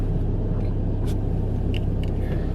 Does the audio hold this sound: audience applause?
no